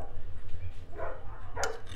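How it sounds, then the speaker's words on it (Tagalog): A dog barks indoors in a house, two short bursts rising over a steady low background hum. "May aso. May aso sa bahay."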